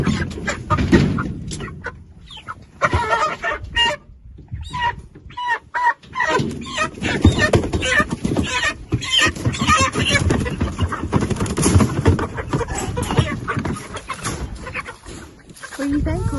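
Pasture broiler chickens cluck and squawk close by in a busy coop, overlapping calls with a voice speaking over parts of it.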